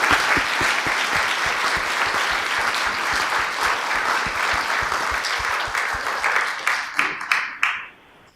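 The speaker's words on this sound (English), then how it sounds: "How about a round of applause, please?" An audience at a county board of supervisors meeting in Riverside County breaks into loud, sustained applause that holds steady for several seconds before tapering off into a few scattered final claps.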